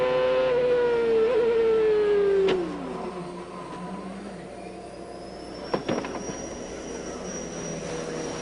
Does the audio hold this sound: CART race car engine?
yes